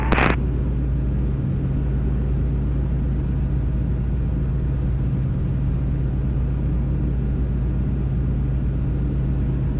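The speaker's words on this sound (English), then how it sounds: "Charlie Whiskey's rolling, runway 27." A Falke motor glider rolls down runway 27 for takeoff, its engine a constant close, low drone with a steady rumble and hum. There is no change in pitch and no talk.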